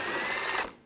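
A ratchet with a T30 socket turns out a headlight screw on a 2007-2013 BMW 328i, making a short, close burst of rapid clicking that stops abruptly.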